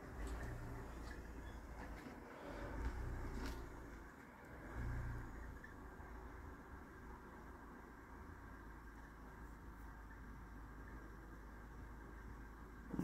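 A car passes by outdoors, its engine rumble rising and falling at moderate distance over a steady low background, with no talking.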